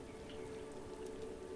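Steady rain pattering in a video game world, a dense even hiss of drops falling continuously at moderate loudness, with no voices over it.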